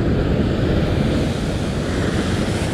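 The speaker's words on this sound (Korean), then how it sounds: "아니야, 저 뒤에 있는 파도" Ocean surf rolls in steadily at a shore during sea float fishing, a dense, continuous roar mixed with wind buffeting the microphone, loud and unbroken throughout.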